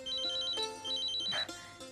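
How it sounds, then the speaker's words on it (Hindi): Telephone ringing in two rapid electronic trilling bursts, close and fairly loud, with a brief clatter between them and no voices. "जानती हूँ देव का फोन है।"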